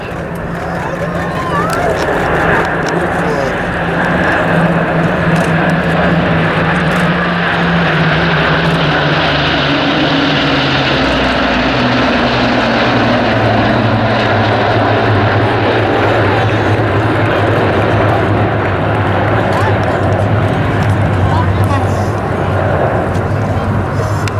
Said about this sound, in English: you can hear the fantastic sound of these engines in formation